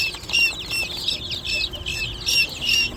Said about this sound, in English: Now I got both the guineas.